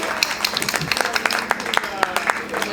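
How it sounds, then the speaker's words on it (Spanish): An audience applauds at the 40th Viña del Mar International Book Fair, with scattered individual claps ringing out over a thin crowd murmur while people talk nearby. "Les pido un aplauso para todos ellos"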